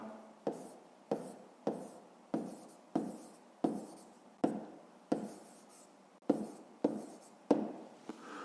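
A pen scratches across paper in steady, evenly spaced strokes, each a short rasp repeating about every half second, close and fairly quiet, with no voices.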